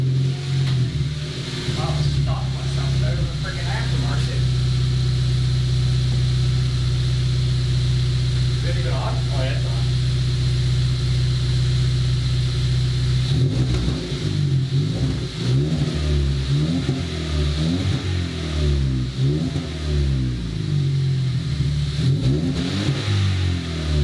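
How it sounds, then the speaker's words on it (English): A car idles on its stock exhaust system with a steady low drone. It then revs repeatedly in rising and falling sweeps, loud and close, and a voice is briefly heard early on. "So here's what the stock exhaust sounds like."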